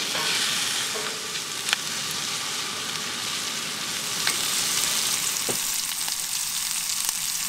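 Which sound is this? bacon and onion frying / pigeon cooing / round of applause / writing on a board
bacon and onion frying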